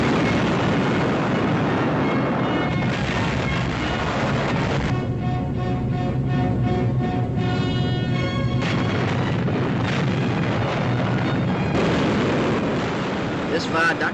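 A 22,000-pound bomb detonates on a railway viaduct in wartime newsreel footage, heard as sustained loud rumbling and booming roar with crackling bursts, overlaid by dramatic orchestral music throughout.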